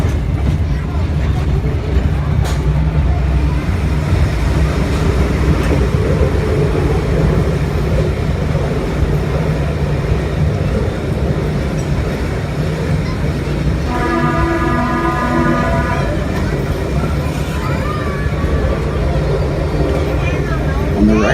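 An Oregon Zoo passenger train rolls along with a steady, loud rumble and running clatter, and a brief tonal horn-like sound partway through; a voice talks over the train noise.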